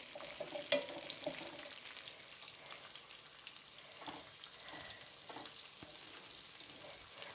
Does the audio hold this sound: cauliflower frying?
yes